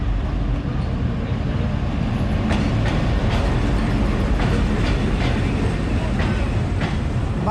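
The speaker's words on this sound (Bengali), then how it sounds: "আর সম্ভবত একটা ট্রেন চলে এসেছে স্টেশনে" A train pulls into a station in Dinajpur in northern Bangladesh, its wheels clicking steadily over rail joints under a continuous loud rumble of carriages, with no speech.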